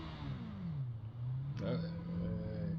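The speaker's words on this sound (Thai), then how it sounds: "เสียงแบบนี้คือกดเบรกหลังนะครับ มันจะดัง" Kawasaki ZX10R superbike in the Ride 4 racing game at Monza, rear brake applied from helmet view: a steady engine drone sinks in pitch, a sharp click cuts in midway, then the lower engine hum carries on.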